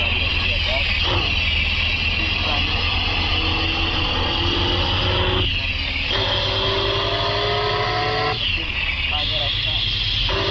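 A car driven along a road in a car-showroom video game makes a continuous loud engine drone with shifting pitch and periodic dips, like gear changes, while someone talks over it throughout.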